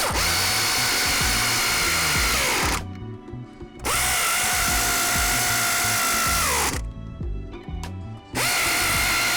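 A power tool tightens nuts onto the rear suspension mounting studs of a 2016-2022 BMW 740i, whirring loudly in three long runs split by two short pauses.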